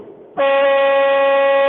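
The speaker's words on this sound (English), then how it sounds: "I could just tell by the air horn" A loud, sustained air horn blast cuts in sharply after a brief murmur and holds steady to the end.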